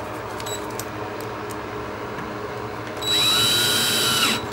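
A power drill pre-drilling holes in a door whirs up sharply near the end, a steady high-pitched spin lasting about a second and a half over a low background hum.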